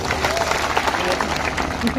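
Crowd applause at a political public rally in Santrampur, Gujarat, a dense, steady wash of clapping filling the whole stretch at moderate loudness, with no clear break.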